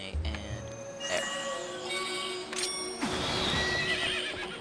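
In Zelda: Twilight Princess, the horse Epona neighs sharply a couple of times over game ambience, with hoofbeats mixed in and a louder burst of movement toward the end.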